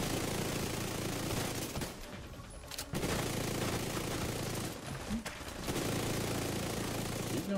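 Sustained gunfire from The Division 2 during an incursion mission, dense and continuous bursts filling the scene with two brief lulls, heard loud and close throughout.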